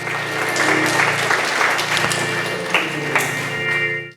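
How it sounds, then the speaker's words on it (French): A church congregation applauding, a dense sustained wash of clapping from many hands in a reverberant hall, with a low hum and brief voices underneath before it fades out at the end. "Acclamez le Seigneur."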